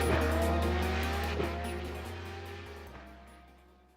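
A vintage open-wheel race car from the Grand Prix Legends sim laps Barber Motorsports Park in Alabama, its engine droning loud and steady with shifting pitch and a brief tire squeal, fading slightly toward the end.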